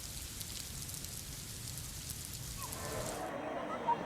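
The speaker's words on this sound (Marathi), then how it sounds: "पावसाचा हाहाकार हा अजूनही सुरू आहे।" Heavy monsoon rain during flooding in Nagpur's Hudkeshwar area, a steady broadband hiss of downpour at moderate distance, quiet and constant throughout.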